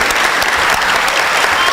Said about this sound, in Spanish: un aplauso para Ceci